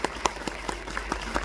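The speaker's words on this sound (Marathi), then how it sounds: "या कलाकारांसाठी जोरदार टाळ्या" Applause for folk musicians who played ektara and khanjiri at a Marathi film trailer launch, with scattered claps from an indoor audience, fairly light and brief.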